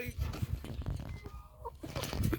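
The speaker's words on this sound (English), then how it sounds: "Hi, red chicken." A red backyard chicken near raised garden beds clucks up close in short, irregular bursts, mixed with rustling and handling noise.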